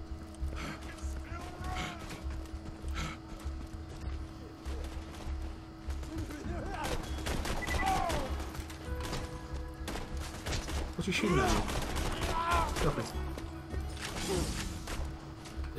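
Rapid gunfire from Borderlands 2 crackles in dense, repeated volleys over a steady game soundtrack, with voices talking over parts of it.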